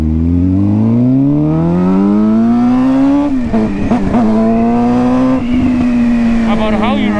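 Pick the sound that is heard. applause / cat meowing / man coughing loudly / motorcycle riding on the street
motorcycle riding on the street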